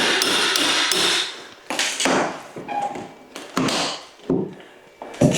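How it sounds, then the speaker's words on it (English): A chisel being driven to split a wooden architrave during a kitchen renovation, a series of loud close hammer-like knocks and cracking bursts of splintering wood with short pauses between blows. "all I'm going to do is get my chisel and split the architrave like that"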